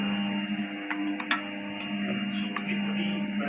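A printer prints onto an LED bulb, giving a steady mechanical hum with faint ticks and a few sharp clicks, one clack standing out near the middle, heard close with no talking.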